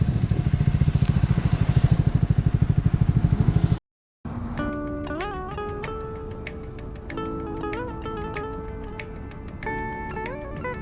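A motorcycle riding through heavy Saturday traffic toward Alibag, its engine thrumming steadily, then after a short gap a continuous ride sound with repeated horn-like tonal honks from nearby vehicles.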